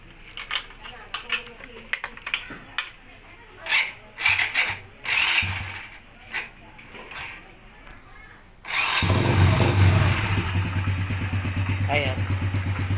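Voices talk over small clicks and handling noises, then a motorcycle engine starts abruptly and keeps running at a steady, loud idle.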